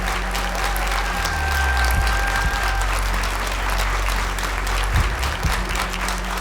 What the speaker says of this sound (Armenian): եկեք եւս մեկ անգամ ծափահարենք մարդկանց